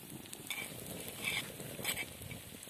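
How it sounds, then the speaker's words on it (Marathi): Peanut chutney is fried in about one and a half spoons of hot oil, giving a quiet, continuous sizzle with a few soft stirring clinks. "आता तेल तापलेलं आहे तर त्यावरती आपण आता चटणी टाकू"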